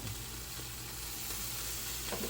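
Cooking oil sizzling in a pot over an open fire while preparing madesu (beans), a steady, close, crackling hiss with no talking.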